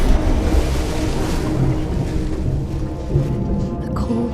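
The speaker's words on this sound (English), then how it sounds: "Water gushed through the fabric, into my ears, my mouth, down into the dark, into a lake that people say is bottomless" Lake water gushes and churns as a body plunges in, a steady, loud rushing wash that fills the whole stretch with no voices.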